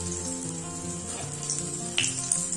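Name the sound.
puffed rice snack frying in oil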